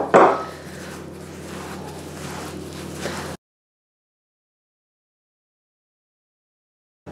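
Eggs being worked into an extra-fine semolina cake batter in a bowl, with clinks and scraping of a utensil against the bowl, loud at first then steady for about three seconds before falling silent.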